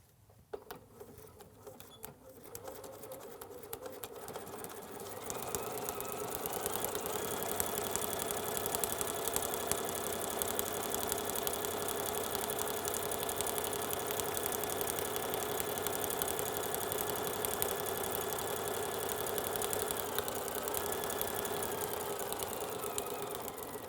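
Sewing machine stitching quilt fabric with a back stitch, a steady fast mechanical whir that starts after a few seconds and runs continuously, fairly faint and alone.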